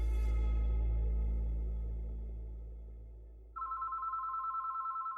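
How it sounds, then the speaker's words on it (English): An apartment telephone rings with a steady electronic trill that starts partway through, following a fading low hum, moderately loud and alone without voices. "the phone at Devin and Carrie's apartment began to ring"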